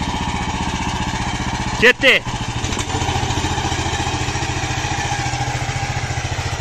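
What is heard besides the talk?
MTZ-82 tractor engine pulling a cultivator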